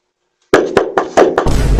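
Several sharp knocks rap on a door, five quick hard blows in an uneven rhythm, loud and close, followed by a rougher scraping knock.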